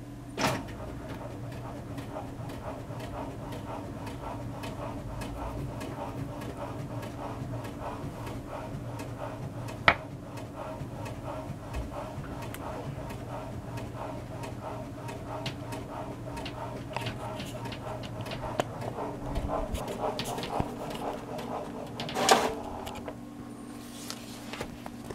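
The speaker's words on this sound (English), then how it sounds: "So that will be printing out momentarily." A printer runs steadily in the background with a low mechanical hum and faint repetitive whirring and clicks, book paper feeding through over a long stretch.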